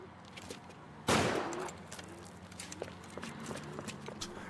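A single sharp gunshot cracks out in the L.A. Noire video game, followed by quieter footsteps and scattered game sounds in the background.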